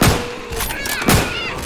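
Two loud, close gunshots in the video game Left 4 Dead 2, spaced about a second apart, with players' voices chattering between them.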